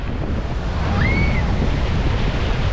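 Ocean surf at Cocoa Beach, Florida washes in as a loud, continuous rumble of breaking waves mixed with wind buffeting the microphone, and a brief bird-like chirp rises over it midway.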